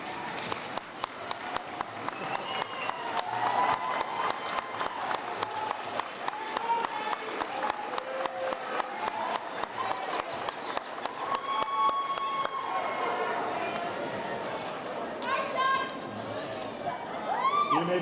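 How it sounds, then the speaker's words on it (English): Graduates' families and friends are applauded at the Mineral Area College 2021 commencement. Dense, sustained clapping from a large crowd goes on for many seconds with scattered cheers and background chatter. "recognize them with a round of applause"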